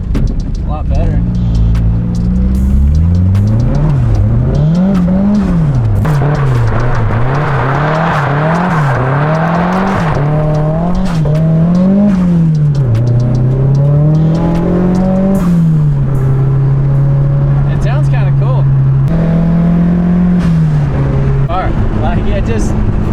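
Heard from inside, a Nissan S14 with a small turbo accelerates hard, its engine note climbing and dropping through repeated gear changes before settling into a steady drone. People talk intermittently over the loud engine.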